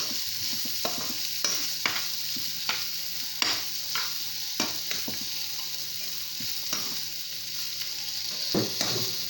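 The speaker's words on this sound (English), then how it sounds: "I'll saute the onions for 2 minutes so that it will release its flavor." Onions sautéing in a pan for baked vegetable rice: a continuous bright sizzle broken by repeated scraping and clacking strokes of a spoon stirring, close and steady, with no talking.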